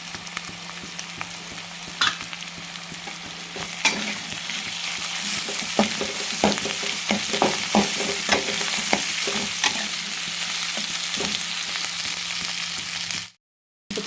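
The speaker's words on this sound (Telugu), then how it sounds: "తర్వాత ఈ తాలింపులో కరివేపాకు వేస్తున్నా. అదేవిధంగా లవంగ, ఇలాచి, దాల్చిన చెక్క, బిర్యానీ ఆకు కూడా వేస్తున్నా." Curry leaves, cloves, cardamom, cinnamon and bay leaf fry in hot oil for a tempering. A steady, close sizzle runs throughout, with scattered stirring clicks, and it cuts out briefly near the end.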